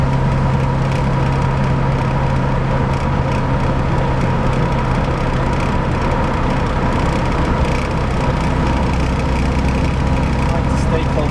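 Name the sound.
1963 Rambler American engine idling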